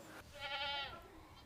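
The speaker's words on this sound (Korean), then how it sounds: "저기 있는 염소들은 오거든요" Black goats on a goat farm let out one short bleat at moderate distance, heard above faint outdoor background noise.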